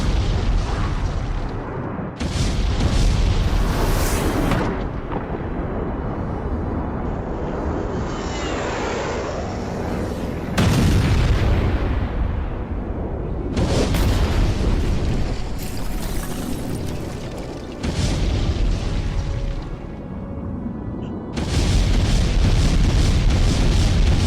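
Several heavy, roaring blasts burst out one after another, each a loud rush of noise that fades before the next, with aircraft droning between.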